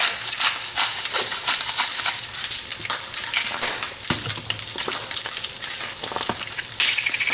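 Lobster frying briefly in a hot pan, a loud continuous sizzle with bursts of crackle and stirring scrapes throughout, no voices.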